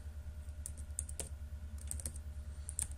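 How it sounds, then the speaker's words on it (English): Computer keyboard typing with quick light key clicks in short bursts over a steady low electrical hum, close and fairly quiet, with no voices. "So I just go ahead and type it"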